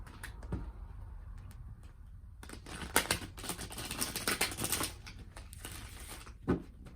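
Tarot cards are straightened and shuffled on a table, giving quick papery taps and riffling clatters in short bursts, with a louder flurry in the middle and quieter pauses around it.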